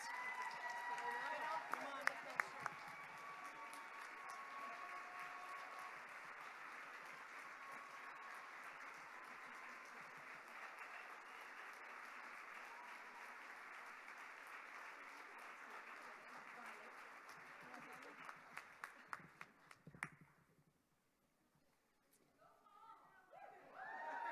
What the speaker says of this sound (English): Please join us in a round of applause for Paul and his faithful service.